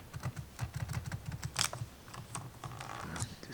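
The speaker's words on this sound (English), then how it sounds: "The keyboard is working." Fingers type on a laptop keyboard in quick, uneven bursts of close, crisp clicks that run steadily without pause.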